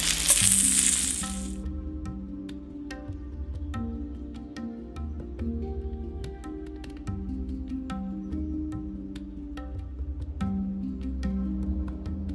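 Vegan steak frying in a pan previously used for cooking vegetables, a steady soft sizzle with scattered light clicks and scrapes throughout, with a brief brighter hiss at the start and no talk.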